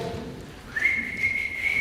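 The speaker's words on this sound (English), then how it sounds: "I do this whistle" A person whistles to call dogs: a single clear, sustained tone that slides up and then holds steady for about a second, heard alone.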